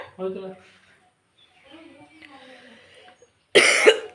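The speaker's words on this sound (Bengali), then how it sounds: "ও আমার কাশি হচ্ছে" Soft, quiet voices talk briefly, then one loud, harsh cough bursts out close by near the end.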